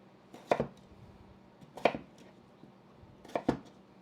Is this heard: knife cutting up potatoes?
yes